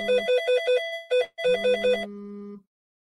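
A synthetic phone ringtone plays a quick, repeating electronic melody of bright beeping notes, briefly breaking off and resuming before ending on a sustained tone, loud and close with no voices.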